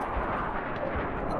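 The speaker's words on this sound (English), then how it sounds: "Right, rocket launcher." A rocket launcher fires in Black Mesa, the Half-Life remake, as a heavy, rumbling boom with a low thump that fills the whole short moment, loud and without voices.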